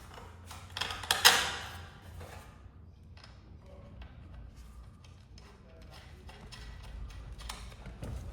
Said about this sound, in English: Now it's time to tighten those bolts.